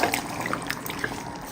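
Boiling water poured into mutton cooking in a pan, a soft steady trickle and splash heard close by with faint bubbling under it.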